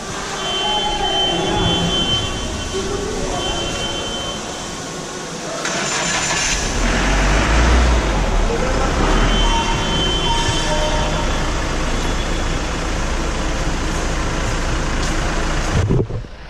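A vehicle lift in a service center raises a vehicle, giving a steady, close mechanical hum that rises after a few seconds and runs continuously, while someone talks over it at the start.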